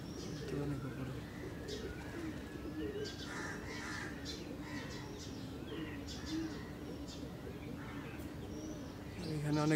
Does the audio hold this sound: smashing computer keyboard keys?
no